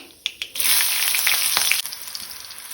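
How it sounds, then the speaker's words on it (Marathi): Mustard seeds, a pinch of asafoetida and a green chili hit hot oil for a Goan mixed-vegetable bhaji tempering, a few light clicks giving way to a loud, steady sizzle that eases off slightly near the end. "अर्धो चमचो सासवा घालता। चिमूटभर हिंग घालता। एक हरवी मिरसांग घालता।"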